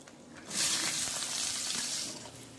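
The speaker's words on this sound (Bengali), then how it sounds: "মশলাগুলো দিয়ে পেঁয়াজ আর রসুন তেলে দিয়ে দিব।" Onion, garlic and whole spices hit hot oil in a pan, bursting into a bright hiss that holds steady for about a second and a half before easing off; quiet, close, and free of speech.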